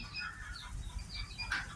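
Bantam chickens cluck softly and faintly in a backyard setting, a few scattered short clucks over low background rumble.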